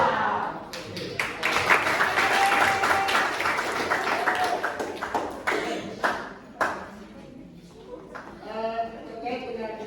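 Children clap in a quick rhythmic pattern to a classroom clapping chant, with sharp hand claps bunched between stretches of chanting and talking voices, fairly close and lively.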